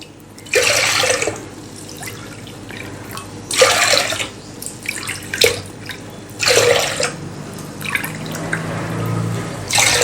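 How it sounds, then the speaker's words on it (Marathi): Water pours from a vessel into a cooking pot while ragi papad dough is being prepared, arriving in three separate bursts of splashing, close and fairly loud, with quiet pauses between them. "आता आपण परत यामध्ये चार वाट्या पाणी घालूयात"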